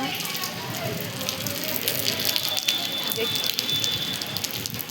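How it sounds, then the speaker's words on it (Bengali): Rain falls steadily, a dense patter and hiss of drops hitting surfaces that carries on without a break. "এখন খুব বৃষ্টি হচ্ছে"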